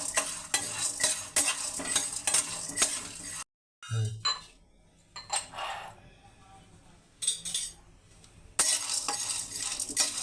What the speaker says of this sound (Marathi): त्यामध्ये मी आता तीळ टाकून घेते. ह्याला पण थोडासा आपण परतून घेऊया.